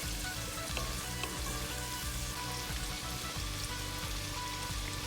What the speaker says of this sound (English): And then you add the onions and let it fry for about another 30 seconds or 1 minute until it's translucent.